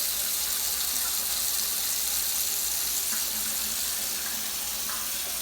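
Tap water runs steadily into a kitchen sink as a hand is rinsed clean of raw egg, a continuous close hiss and splash with no speech.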